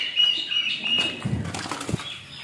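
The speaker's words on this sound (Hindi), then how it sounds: "देखो कबूतर आते हैं और ना खिला के चले जाते हैं" Pigeons' wings flap in a quick flurry nearby as they take off, with a faint chirp at the start.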